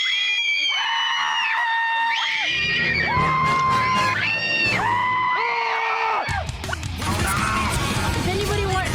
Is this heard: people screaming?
yes